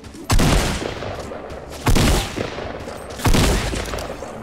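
Gunfire in the video game Fortnite, heard as three loud, sharp bursts of shots about a second and a half apart, each followed by a short rumbling tail.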